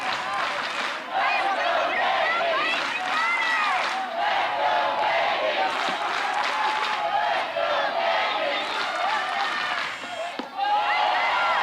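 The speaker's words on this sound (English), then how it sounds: "playing in front of a sellout crowd here today, hearing the chant, "Let's go KB."" A sellout crowd at a college softball super regional game between Kentucky and Alabama chants steadily, a dense roar of many voices filling the stadium throughout, with a brief dip near the end.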